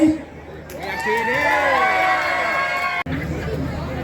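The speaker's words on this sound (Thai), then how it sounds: "ไหนไหนไหนเสียงกองเชียร์ทุ่งสงอยู่ไหน" Thung Song supporters at a Thai boxing event cheer and shout together, a close, loud surge of many voices rising and holding before breaking off suddenly, with an announcer's voice mixed in.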